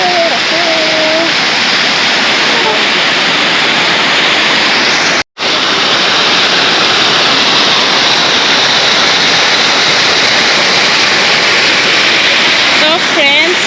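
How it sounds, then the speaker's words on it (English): A waterfall roars in a constant, loud rush of falling water close by, with a brief voice near the start and a momentary dropout midway. "Guys, this is a waterfall."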